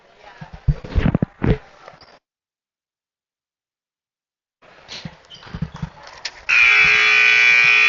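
After thumping and squeaking on a basketball court during a Pleasant Grove vs Mountain Ridge game and a silent gap, a loud, sustained buzzer sounds at the end.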